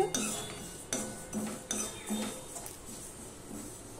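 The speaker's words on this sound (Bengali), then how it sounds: "মুগ ডালটা আমি হালকা করে ভেজে নিচ্ছি" Moong dal dry roasting in a pan, heard as a run of light metallic scrapes and clinks from a spoon stirring against the pan, coming every half second or so at close range, fairly quiet.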